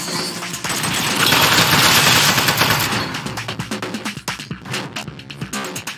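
A turret gun in the Aperture Desk Job video game fires a loud, dense stream of rapid shots, with the bursts growing more choppy and staccato toward the end.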